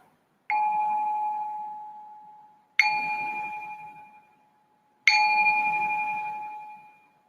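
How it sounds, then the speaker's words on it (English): Three clear bell strikes used to open a guided loving-kindness meditation, each ringing out with a sharp attack and a long, slowly fading sustained tone, spaced a couple of seconds apart, close and alone without any voices. "Ring the bell."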